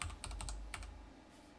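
Brief, close keyboard typing: a quick cluster of clicky key presses followed by one more after a short gap, over a low background hum.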